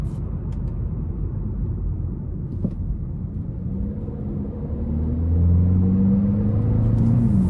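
A Hyundai Elantra N Line with a 1.6-litre four-cylinder engine and dual-clutch transmission drives along with a low, steady cabin rumble, and the engine note rises and swells in the last few seconds as it pulls harder.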